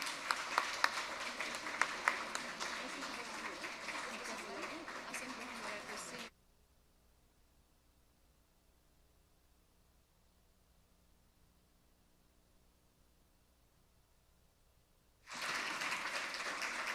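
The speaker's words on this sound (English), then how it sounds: "Shall we applaud this profound moment?" Crowd applause at a closing ceremony fills the first several seconds, then near silence, before clapping resumes loudly at the end.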